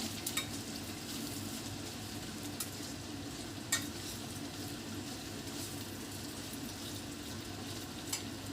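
Onions frying gently in a pan over low heat, a steady soft sizzle with faint stirring clicks, close and continuous with no talking.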